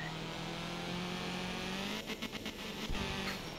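Rally car engine in the racing game art of rally, holding a steady loud drone, then choppy revving with quick throttle blips toward the end, with no talk.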